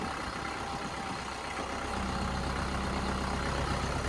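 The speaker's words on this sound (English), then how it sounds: "Going for a ride in my little orange tractor." A small orange Kubota tractor's engine runs steadily close by, a low rumbling idle that grows slightly louder and deeper partway through as it rides along.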